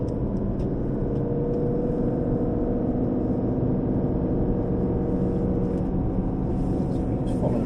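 An Aston Martin Vantage drives around the Silverstone circuit, its engine a loud, steady, unbroken drone heard from inside the car throughout.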